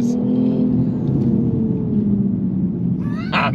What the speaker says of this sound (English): Left foot is hard down on the brake, right foot on the accelerator, launch control active.